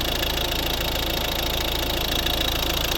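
A 2011 Volvo V50 1.6 D2 diesel engine idles steadily up close, a continuous knocking rumble with no change in pace.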